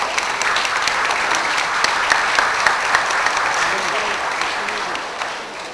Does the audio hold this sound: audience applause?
yes